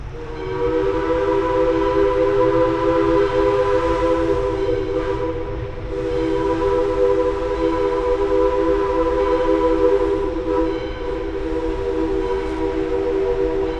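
A loud, sustained train horn blares steadily for the whole stretch, its layered harmonic tones holding with a slight dip midway, over low rumbling rail noise.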